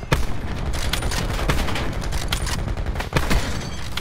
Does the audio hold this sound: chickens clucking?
no